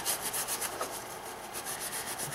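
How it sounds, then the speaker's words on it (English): A Scotch-Brite pad scrubs gasket residue off an aluminium BMW 3 Series E90 engine at the oil filter housing, making quick, rhythmic abrasive rubbing strokes, close and fairly quiet, with no talk. "I like to use Scotch-Brite. Works really good."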